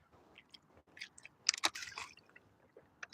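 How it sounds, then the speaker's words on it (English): A plastic water bottle is squeezed by hand, producing a quiet, close run of crinkling crackles and squishes that bunch into a louder burst midway, alone with no talking. "Let me squish the bottle first"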